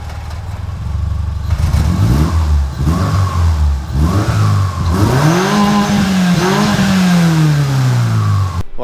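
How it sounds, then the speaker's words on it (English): A truck engine with a blown head gasket revs repeatedly, pitch climbing and falling in several loud surges before settling into a long, slowly dropping drone, close by. "I am going to move the truck, put it over in the garage"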